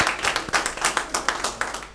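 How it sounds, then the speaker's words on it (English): Crisp, fast hand clapping from a small group, a rapid rhythmic patter of applause up close. "Give him another round of applause as he sits down."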